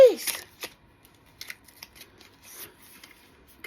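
Scissors slice through heavy, stubborn packing tape on a cardboard subscription box, several sharp snipping and crackling bursts alone at close range with quiet gaps between.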